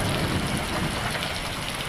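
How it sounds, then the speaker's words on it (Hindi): Heavy rain pours down in a cartoon jungle, a loud, dense and unbroken roar with deep rumbling underneath. "जंगल में बहुत तेज बारिश हो रही थी।"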